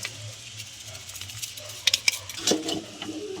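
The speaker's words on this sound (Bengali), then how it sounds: "আরো ভালো করে নাড়িয়ে নিচ্ছি" Chow mein with egg and chow mein spice is stirred in a pan, with scraping and light metallic clinks of a utensil against the pan over a soft background sizzle, close and fairly quiet.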